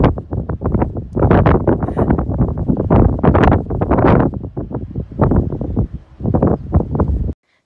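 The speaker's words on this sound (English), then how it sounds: "here it's windy" Loud, gusty wind buffeting the microphone in rough bursts for several seconds, then cutting off abruptly.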